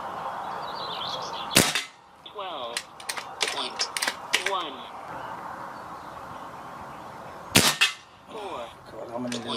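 Several sharp air rifle shots from a Kral Puncher Jumbo, fired at targets: a few loud cracks spaced seconds apart, with quieter clicks and mechanical handling noises between them and a voice talking in the background.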